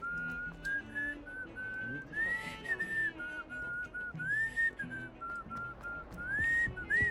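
A person whistles a wavering tune with rising and falling notes, fairly faint, over soft background noise.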